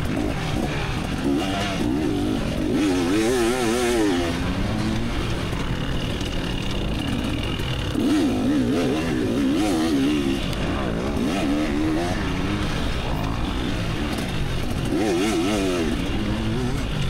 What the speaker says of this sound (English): Ah, two-stroke sounds so good.